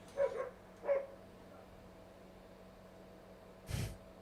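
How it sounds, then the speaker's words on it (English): A neighbour's dog barks a few times from a distance, two short faint barks early on and a louder single one near the end, with quiet room tone in between. "It's the neighbour's dog."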